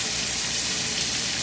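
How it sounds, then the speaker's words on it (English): Ground beef, bacon bits and onion frying in a pot, a steady, dense sizzle and crackle that holds at an even level throughout with no talking. "So now it's frying."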